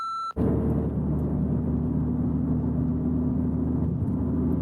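A car engine drones and rumbles steadily from inside the cabin while the transmission skips gears after a bad XHP flash tune, following a short beep at the start.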